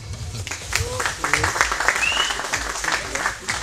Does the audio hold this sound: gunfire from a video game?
no